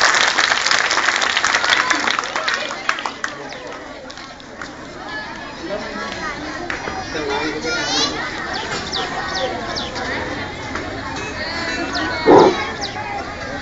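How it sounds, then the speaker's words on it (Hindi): Students at an Urdu high school Teacher's Day event applaud amid constant children's chatter and crowd noise, a continuous busy wash of clapping and young voices throughout. "तालियां बजाइए आप"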